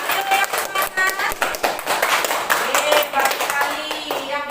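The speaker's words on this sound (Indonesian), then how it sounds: "Kasih tepuk tangan temannya." Classroom students clapping for a classmate, a busy run of many hands patting in uneven rhythm, close and loud for several seconds, with voices talking over the applause.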